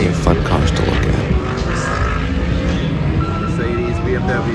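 GT race cars on a startup lap at a Birmingham circuit, a dense roar of several engines passing with rising and falling whines, loud and continuous, with a voice talking over it.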